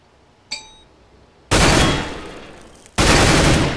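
Rifle fire on a Counter-Strike: Global Offensive weapons training course: a metallic click or clink, then two loud, close full-auto bursts each lasting over a second with a brief gap between them, and no talking.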